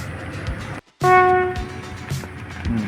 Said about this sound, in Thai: มีเสียงรถไฟมาอีกด้วยนี่